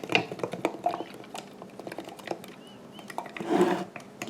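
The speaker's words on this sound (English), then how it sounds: "So we're just going to stir all that up." A spoon stirs a sourdough starter made with mashed potato flakes in a container, giving a run of quick scraping clinks and taps against the sides, close up and fairly quiet, with a louder scrape near the end.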